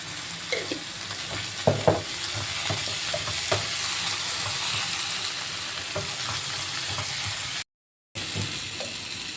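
Onion and tomato sauté in oil for a masala egg dish, a steady close sizzle with intermittent spoon scrapes and light clinks against the pan, and a brief dropout near the end.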